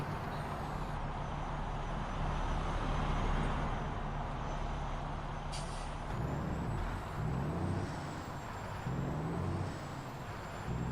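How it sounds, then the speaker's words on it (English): A heavy truck engine in American Truck Simulator rumbles steadily, with a hiss of air brakes and shifting engine tones, a continuous mechanical drone filling the scene. "Truck don't sound as loud from up here, unfortunately."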